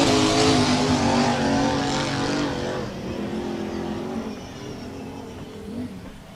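Racing power boats on the river at the Bundaberg Rum City Classic, a loud high-revving engine roar close by that slowly fades as the boat pulls away, with an announcer's commentary running over it.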